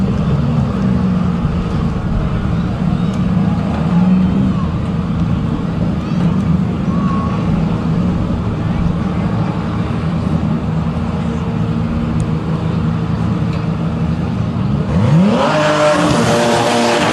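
Drag race cars, including DCT and GTR GR6 Extreme classes, accelerating hard down the track, a loud continuous engine roar with a rising whine near the end as one car launches and pulls away.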